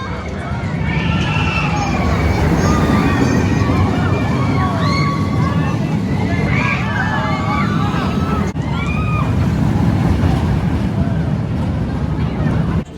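A boomerang roller coaster at Six Flags St Louis rides with a constant loud roar of wind and rumbling track, while riders scream and shout throughout.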